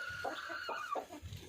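Hens cluck close by in a short series of soft, repeated calls, a few quick throaty notes in an irregular rhythm against faint background noise.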